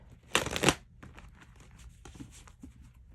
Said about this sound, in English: I'm just doing a quick shuffle here.